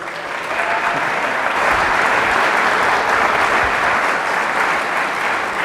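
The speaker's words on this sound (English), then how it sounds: "Please give a round of applause for Joseph P. Farrell." Sustained applause from a sizable lecture audience welcoming a speaker, steady and dense clapping throughout with no voices rising above it.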